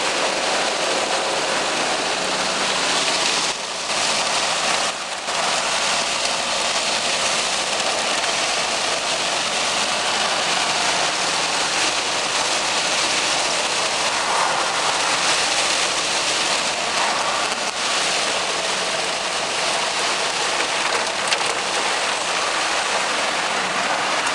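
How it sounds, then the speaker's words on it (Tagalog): A rushing flood of rainwater pours along steadily as a dense, unbroken roar, loud and close for the whole stretch. "Ayan, rumaragasa kamong alon ng tubig."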